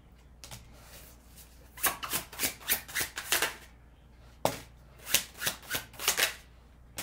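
Large tarot cards being shuffled by hand, two bursts of rapid riffling flutters, each a quick run of about seven crisp slaps separated by a short pause, close and clear with no talk.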